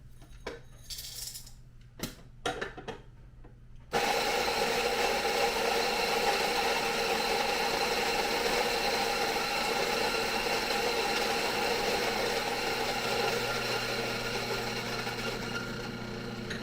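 Ethiopian coffee beans are crushed in a grinder, a loud steady whirring grind that starts abruptly after a few seconds of faint clicks and handling noise, then runs continuously to the end.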